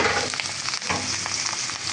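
Washed bitter gourd frying in hot oil in a wok, giving a loud, continuous close-up sizzle with crackling spits and faint stirring, and no talk.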